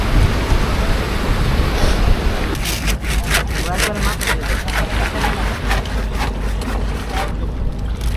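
A trawler boat on the Buriganga river in Dhaka, Bangladesh, gives a steady low engine rumble that runs the whole way through, with a wash of water and wind noise and some sharp knocks partway along.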